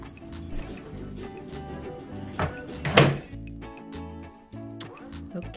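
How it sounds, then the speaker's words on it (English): Drawers of a heavy bedroom dresser being pulled out one at a time, with scattered wooden thunks and knocks, one sharp louder bang in the middle, over steady background music. "they gotta try to take out one drawer at a time in order to move it"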